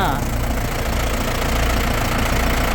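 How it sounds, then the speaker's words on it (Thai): Toyota 14B diesel engine in a 2000 Toyota Dyna truck idling, a steady close and loud rumble with a continuous knocking texture throughout, no pauses. "นี่นะครับเครื่องยนต์โตโยต้า"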